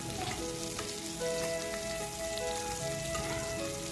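Chopped onions fry with cumin seeds in hot oil for a Bengali rohu fish curry, giving a steady, moderate crackling sizzle that carries on evenly without any voices.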